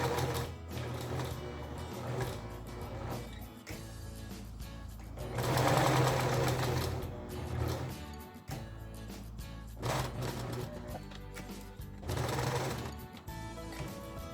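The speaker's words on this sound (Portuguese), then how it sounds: "eu aqui já posso caminhar com a minha agulha costurando até o quadrado aqui de baixo e começar com a costura interna" A sewing machine stitches fabric scraps for a zero-waste mug rug, its fast mechanical whirr running in bursts with short pauses between seams, close and steady, with no talk.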